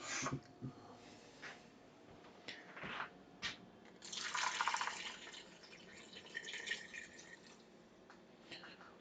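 Water is poured into a cooking pot in a home kitchen, a quiet splashing and trickling that swells for a few seconds amid scattered drips and small clinks.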